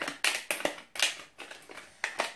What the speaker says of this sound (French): Donc je l'ouvre maintenant avec mon petit ciseau.